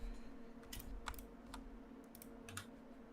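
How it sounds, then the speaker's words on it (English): Soft, quick keystrokes from a computer keyboard clatter faintly in the background of a room, several irregular bursts of typing over a low hum. "That's a nice keyboard you got in the background."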